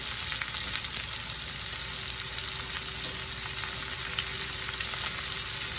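Chopped onion sizzles and crackles steadily in a hot pan over a fire while being stirred for an okra and potato hash, a dense, even frying hiss throughout with no talking.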